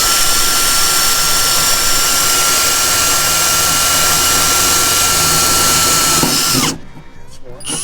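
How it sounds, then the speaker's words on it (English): A power drill bores pilot holes for a B&W Turnoverball gooseneck hitch in a 2022 Chevy 2500HD, a loud, close, steady high whine that runs for several seconds and then cuts off into quieter clatter. "I'm going to drill each one of these little holes."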